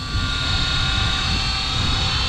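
Align T-Rex 550X RC helicopter in flight, a steady close whine and rotor drone holding level and continuous with no voices.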